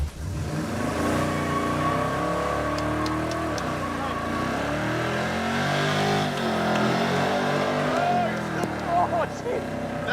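A Dodge Charger's engine revs and accelerates on gravel, a loud sustained roar with rising and falling pitch, while people talk over it and stones crackle faintly.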